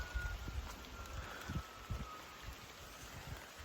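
Rain falls on a home vegetable garden as a steady soft hiss with scattered low patters of drops hitting leaves and ground, continuous and fairly faint, with no talking.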